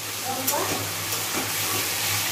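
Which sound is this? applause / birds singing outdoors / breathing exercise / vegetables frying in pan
vegetables frying in pan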